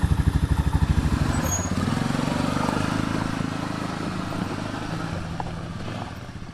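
An ATV engine running on a hay farm, a steady close chugging idle that starts with a pulsing rhythm and settles into an even drone, no talking.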